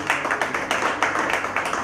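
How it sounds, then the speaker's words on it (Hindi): An audience claps in rhythmic bursts at a Hindi literary gathering, loud and close, with repeated even pulses of clapping and no speech over it. "एक बार तालियां बजा दें आप"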